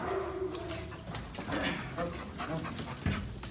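A nervous German Shepherd pants quickly and steadily outdoors, the rhythmic breathing close and mixed with faint whimpers, shuffling and a brief knock against background noise.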